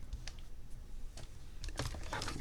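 Quiet, irregular tapping of keys on a computer keyboard, a few scattered clicks followed by a quicker burst near the end.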